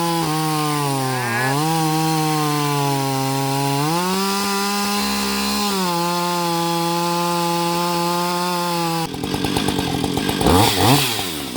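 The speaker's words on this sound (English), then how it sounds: "we changed out the chain on this chainsaw for what is it called? Skip tooth chain" Chainsaw fitted with a skip tooth chain, idling loud and steady, its engine pitch rising and dipping, then biting into wood near the end with a rougher, buzzing cutting roar.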